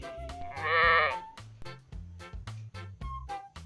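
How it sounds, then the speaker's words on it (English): A sheep gives one clear, drawn-out bleat up close, followed by a steady rhythmic musical backing with a few short tonal notes. "sheep,"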